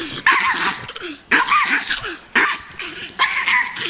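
A small dog, likely a chihuahua, barks in four sharp, loud bursts spaced about a second apart, with a growly edge between them and no talking.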